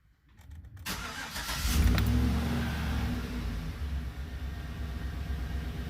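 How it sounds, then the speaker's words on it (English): A 2011 GMC Sierra truck engine cranks and catches after a moment of near silence, then settles into a steady, low, rumbling idle that continues close by without any talk. "so you're gonna have to start the car"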